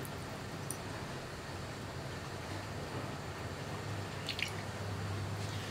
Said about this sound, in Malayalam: ഇതിലേക്ക് നമുക്ക് വെളിച്ചെണ്ണ ചേർത്ത് കൊടുക്കാം.